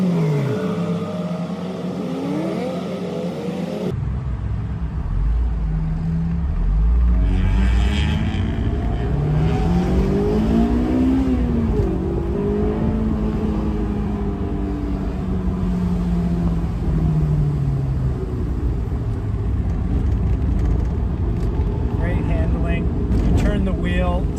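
A Honda S2000 roadster driven with the top down gives a steady engine drone with rising and falling pitch as it accelerates, plus wind and road noise, continuous throughout.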